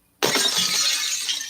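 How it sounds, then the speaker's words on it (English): A glass-shattering sound effect bursts in after a short silence, with a loud, sharp crash of breaking glass that decays into a long, bright tinkling spray of shards. "Let's break the glass for the black woman."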